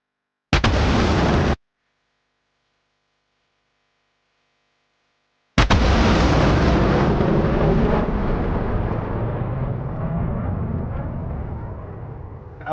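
Loud video-game explosions in a tank battle: a short sharp blast, a gap of silence, then a heavy booming detonation whose rumble and debris roll on and slowly fade.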